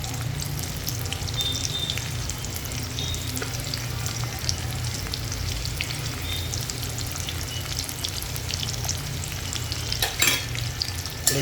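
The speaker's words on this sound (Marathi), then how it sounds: "मिरची भाजून घेऊ कापलेली बारीक केलेली." Chopped green chillies and finely cut potatoes fry in a pan for sabudana khichdi, a steady close sizzle with soft stirring scrapes throughout and a brief louder clatter near the end.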